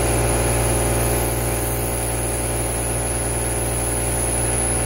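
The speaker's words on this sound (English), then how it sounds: "First step is to turn on your bench grinder, and with it running, support the electrode with your left hand." A bench grinder runs steadily while a tungsten electrode is sharpened against it, a loud, close, continuous motor hum with a constant high whine and no voices.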